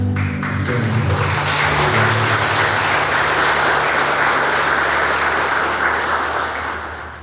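An audience claps after a live song at a lecture-and-music evening, dense sustained applause that stays strong for about six seconds before tapering off.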